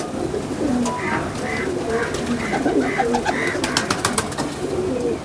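Pigeons cooing in a loft, several soft repeated coos close by, rising and falling in rhythm over a low background with occasional wing flutters and shuffling.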